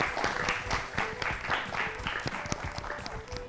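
An audience claps in applause after a correct quiz answer at an educational show, a moderate, continuous patter of many hands for a few seconds.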